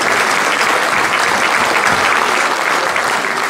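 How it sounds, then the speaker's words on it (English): Loud, dense applause from an audience at a high school athletic banquet, a thick continuous roar of clapping that stays strong and even throughout. "ladies and gentlemen deserve a huge round of applause"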